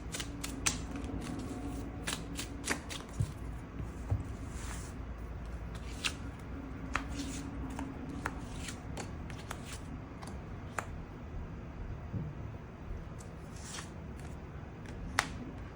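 Tarot cards are shuffled and drawn in a quiet room, giving a steady run of soft papery riffles and sharp card snaps and flicks close to the mic, with no talking over them.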